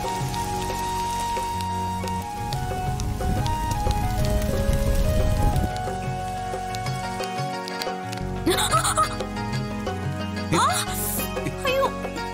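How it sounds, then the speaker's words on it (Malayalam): Rain starts to fall, building into a dense hiss of drops on surfaces for a few seconds, then easing under music and voices. "ദേ മഴ പിടിക്കുന്നു, ഓടിക്കോ"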